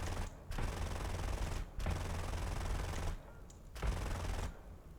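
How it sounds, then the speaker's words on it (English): F-5E jet's cannon firing in the War Thunder air simulator, dense continuous bursts of gunfire in long stretches broken by brief pauses, over steady engine roar. "Needed to use my gun sometime."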